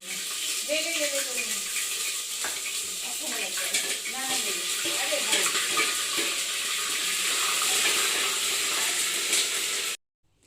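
Mustard oil heats in a pan in a home kitchen, a steady hiss and sizzle with running-water-like texture filling the whole stretch, while a voice talks over it and stops near the end.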